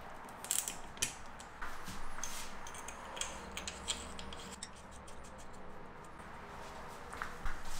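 Bolts on an e-bike motor bracket are tightened with a ratchet, making scattered quiet clicks and metallic ticks at close range. The intermittent tool sounds sit over a low background hum, and no one speaks.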